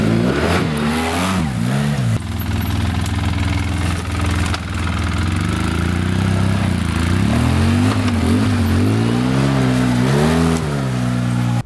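A 2012 Polaris Sportsman 800 ATV rides off-road, its loud engine close by and constant, the pitch rising and falling as the throttle opens and eases.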